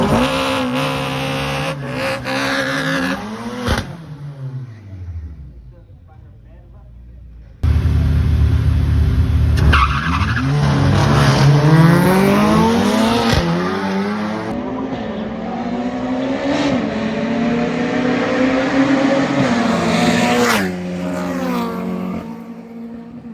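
Drag racing cars launch and accelerate down the strip in South Africa, a loud engine roar rising in pitch through the gears, a brief quieter lull, then another hard surge with faint crowd noise.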